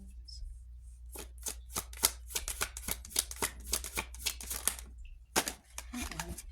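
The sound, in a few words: shuffling tarot cards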